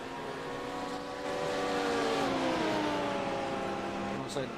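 Three LMP2 prototype race cars running down toward the pits at an endurance race, engine notes sweeping and shifting in pitch, fairly loud and continuous at mid distance.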